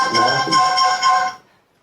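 A phone ringtone plays a short bright electronic melody of a few repeated tones, loud and close, then cuts off abruptly.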